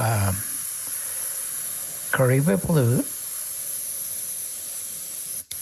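A continuous airbrush hiss sprays candy paint steadily throughout onto a mini hood, close and even, while a person briefly speaks over it.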